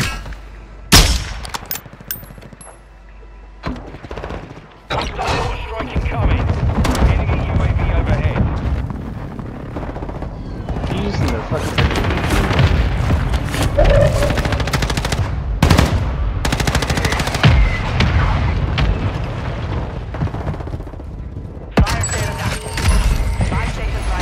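Heavy automatic gunfire in an online shooter video game, loud sustained bursts with booming impacts filling most of the stretch, broken by brief pauses, with a player's voice talking over it.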